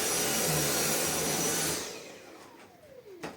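Cordless vacuum cleaner running on a TPCELL 4A TENPOWER battery pack, pulling at the edge of a thick carpet: a loud, steady whine close by that drops in level partway through, with small rattles toward the end, and no talk.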